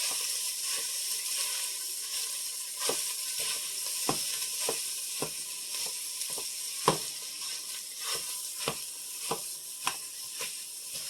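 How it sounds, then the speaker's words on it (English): Thawed beef patties and onions sizzle steadily in a Dutch oven while a masher breaks them up, adding a string of irregular soft thuds and scrapes over the constant frying hiss. "we're going to take our masher and we're going to ground up the patties"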